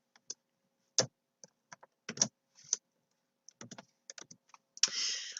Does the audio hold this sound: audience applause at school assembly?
no